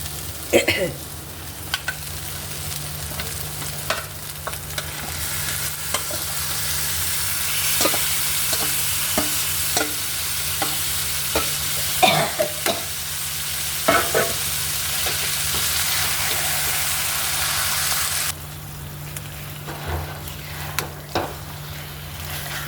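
Marinated meat sizzles and fries in a kadai while a spatula scrapes and stirs it, a steady close, loud hiss broken by clinking stirring strokes, with no voice.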